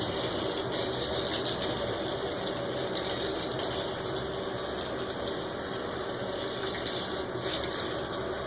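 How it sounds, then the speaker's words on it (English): Tap water gushes steadily into a bucket being filled to the right level for washing cloth pads, a continuous close, loud rushing stream with no pauses. "I go back and add more water to get the bucket up to the right level of water."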